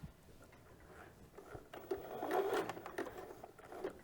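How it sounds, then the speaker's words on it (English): A home sewing machine runs a zigzag stitch through thread and fabric for a DIY face mask, a soft rapid mechanical patter that swells in the middle and stays fairly quiet throughout. "So on my machine, I can switch to a zigzag stitch"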